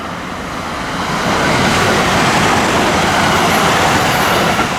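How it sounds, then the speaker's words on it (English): A newer Japanese commuter train crosses a seaside bridge in a continuous broad rushing roar that swells slightly and holds steady, close and loud, with no one speaking. "looks like a train is coming"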